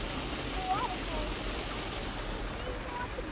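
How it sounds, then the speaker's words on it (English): An outdoor waterfall gives a continuous broadband rush of falling water. The roar is steady and unbroken, with faint traces of voices and birds barely showing above it. "It's a waterfall."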